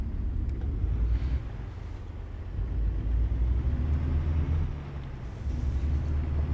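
A truck engine in American Truck Simulator drones at a low, steady pitch while cruising along a highway, with a continuous rumble that swells and dips slightly.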